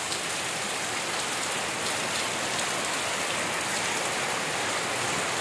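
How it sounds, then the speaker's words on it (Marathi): Heavy rain pours down in a coastal Konkan village, a dense, steady hiss of drops drumming on surfaces, loud and unbroken with no voices. "आणि एकदम मस्त जोरदार पाऊस आलेला आहे."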